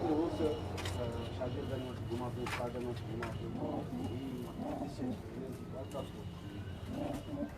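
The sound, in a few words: banded pigeon cooing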